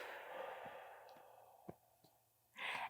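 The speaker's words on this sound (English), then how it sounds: "So you're going to exhale slowly through your mouth and keep breathing for 5 to 6 counts" A slow, quiet breath out through the mouth, soft and airy close to the microphone, with a few faint clicks and then a louder breathy gust at the end.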